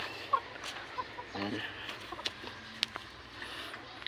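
Backyard chickens clucking at close range, with short scattered calls and a few sharper squawks over a quiet outdoor background.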